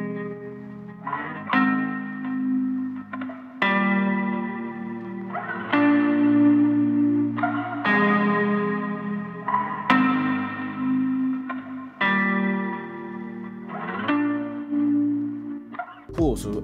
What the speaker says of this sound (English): that made the volume of the reverb crescendo from measure 25 to 29 and the decrescendo from measure 29 to 33